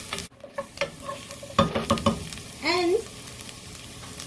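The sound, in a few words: stirring soup ingredients in a pot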